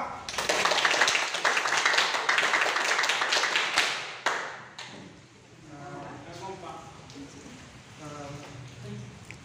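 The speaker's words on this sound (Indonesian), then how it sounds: "Tepuk tangan pramuka." Rhythmic group clapping of a scout yell routine, loud bursts of hand claps in patterned beats during the first half, then fading into quieter talk and voices.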